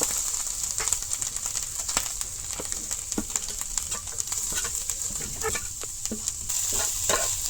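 Grated coconut and jaggery are stirred together in a pan with intermittent scraping strokes over a soft, steady sizzle, close and moderately quiet, with no talk.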